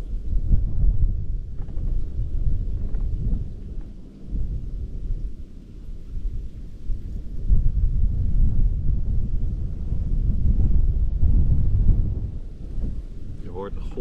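Steady gusts of wind rushing and rustling through reeds, swelling and easing in waves, with a low rumble of wind buffeting the microphone.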